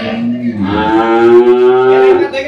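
A dairy cow at a Bangladeshi cattle market moos loudly and close by in one long, drawn-out call lasting over two seconds, with a steady tone that rises slightly and then fades.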